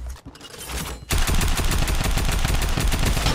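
Video game gunfire breaks in after a brief quiet start, then becomes a loud, continuous rapid-fire stream of close shots, like a sustained automatic weapon burst.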